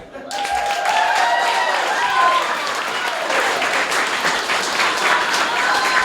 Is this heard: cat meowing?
no